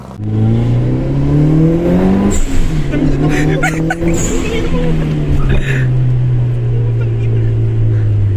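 A Honda Jazz GK hatchback engine revs up loud and close, pitch climbing, dipping at a gear change, then climbing again; voices are heard over the engine.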